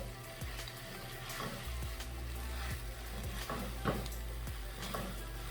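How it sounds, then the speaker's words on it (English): Noodles being stirred in a sizzling pan with chicken, a steady frying hiss broken by soft scraping and clinking strokes at an even pace, close and fairly quiet. "I'm continuing to just stir the noodles"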